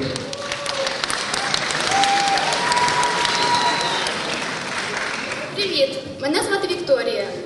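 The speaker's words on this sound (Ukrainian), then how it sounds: "Ваші оплески." Audience at a beauty pageant applauds a contestant as she is introduced, steady dense clapping filling the hall for several seconds, with some cheering and a few voices rising near the end.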